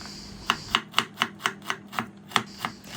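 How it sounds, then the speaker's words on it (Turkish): A knife finely chops green beans on a cutting board, about ten crisp, evenly spaced strikes in a steady rhythm, close and clear. "Gördüğünüz gibi ince ince doğrayın"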